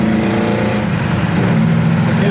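A 1966 Pontiac Le Mans cruising at speed on a test drive, heard from inside the cabin as a steady, loud engine drone with road and wind roar, continuous throughout.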